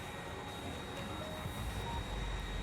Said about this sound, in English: All the trains are going.